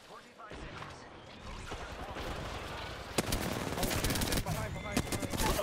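Rapid gunfire in the battle royale shooter Apex Legends during a team fight, bursts of shots growing denser and louder in the second half while players talk excitedly.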